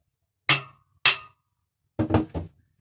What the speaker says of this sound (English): alright, hammer, pop it out,